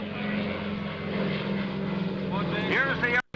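A silver Douglas DC-3 propeller airliner drones steadily at an airshow, its loud piston-engine hum rising in pitch as it passes, while an announcer speaks over the engine noise.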